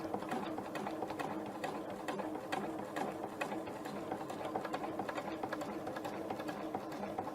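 A sewing machine stitches a quilted star block at an even, rapid, unbroken rhythm, close and steady with no pauses and no talk over it.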